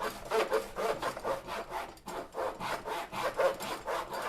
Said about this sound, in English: because it is a miter frame saw, I don't have to worry too much about how good I am with my right hand to finish this cut